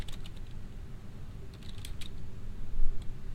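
Keys tapped on a computer keyboard while a company name is entered, irregular light clicks in short bursts over a steady low room hum, fairly quiet and close.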